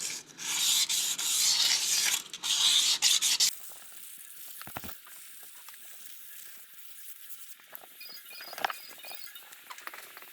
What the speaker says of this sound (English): You just want to roughen up the flywheel as well with a bit of sandpaper as well.